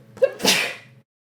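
A single sharp human sneeze, close and loud, with a short inhale just before the burst and then silence.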